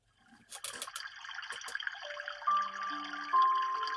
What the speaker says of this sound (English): It's more probably going to be like water feature sounds.